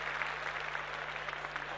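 Audience at a Mangalagaur competition applauding the runner-up team from Aurangabad, a dense, steady burst of many hands clapping at moderate distance with no pause.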